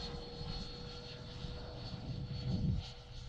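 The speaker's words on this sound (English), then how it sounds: "It doesn't take much to fly this plane." A small airplane drones steadily in flight, a constant engine hum with a faint high whine and a slight swell near the end, no voices over it.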